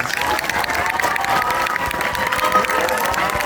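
Audience applause and cheering for a rapper fill the space as a continuous, dense wash of clapping with crowd noise, steady and fairly loud throughout.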